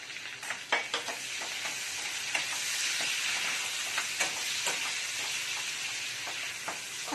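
Onions frying in oil with torn dried red chillies and nigella seeds, a loud steady hissing sizzle with frequent sharp scrapes and clicks of a spatula stirring the pan, no voices.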